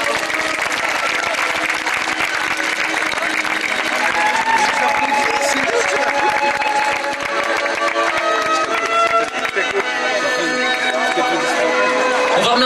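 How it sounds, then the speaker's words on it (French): An outdoor crowd at a street-theatre evening in La Ciotat applauds the performing troupe, with long, steady clapping mixed with cheering and chatter, while a voice calls out near the end. "Je voudrais que vous applaudissiez très fort l'Îlotopie."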